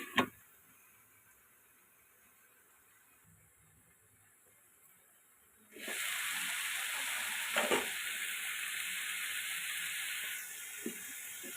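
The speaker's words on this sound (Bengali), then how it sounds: "এবার 2 মিনিটের জন্য ঢাকা দিয়ে আমি মোচাটা কষিয়ে নেব।" Banana flower frying with spices in a pan, first quiet with a faint clink, then a sudden loud steady sizzle and hiss as the covered pan cooks, close and continuous with a few soft knocks.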